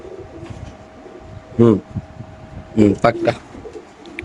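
Pigeons at a busy pigeon market coo in two short rounds of throaty, rolling calls close by, while people talk in the background.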